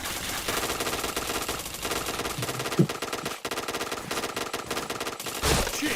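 Rapid machine gun bursts from a shooting video game ring out in quick rattling strings, with a louder thump and brief pauses between volleys, fairly quiet overall.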